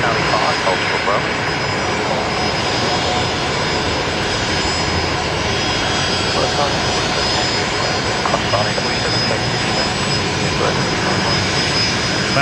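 A jet airliner taxis close by into Bay 50 Alpha at Brisbane Airport, a loud, steady engine whine and roar with a high tonal hum, while people and radio voices talk underneath.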